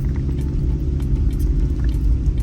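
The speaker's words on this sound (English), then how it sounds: "That truck is powerful enough." Truck engine rumbling as it climbs a bad, rough hill road in Jamaica, a loud, continuous low drone close by that never lets up.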